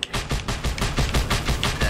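Rapid cannon fire in the video game Just Cause 2 booms as a fast, loud, continuous burst of heavy shots, about six per second, with no talk over it.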